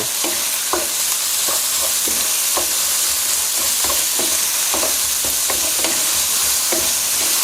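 Minced pork stir-frying with fragrant garlic in a pan for a pumpkin and basil dish, a loud, continuous close sizzle punctuated by a regular rhythm of spatula scrapes and taps, with no speech.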